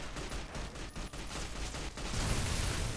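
Gunfire in the video game Fallout: New Vegas, a loud burst of rapid shots that grows denser and heavier toward the end, with no talk over it.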